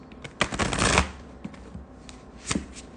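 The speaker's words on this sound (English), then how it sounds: "I'm trying to learn how to fancy shuffle for you guys." Shuffling a deck of moonology oracle cards, a dense burst of riffling flutters followed by scattered soft card snaps and slides, close and fairly loud with no talk.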